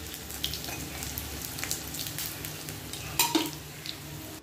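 Onion fritters (peyaji) frying in hot oil give a steady close sizzle, broken by a few sharp clinks of a spatula or utensil against the pan, with no talking.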